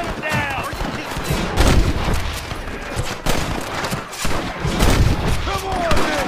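Gunfire in Red Dead Redemption crackles in rapid volleys of sharp shots and booms, loud and close, while voices shout over the shooting.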